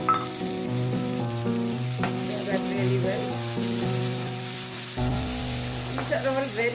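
Garlic and finely chopped onion fry in a hot pan for Gobi Manchurian, a steady close sizzle running throughout while a person talks over it.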